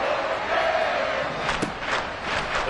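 A stadium crowd in the Madden 24 football video game roars loudly and steadily, a broad wash of cheering with a few sharp thuds and shouts rising near the end.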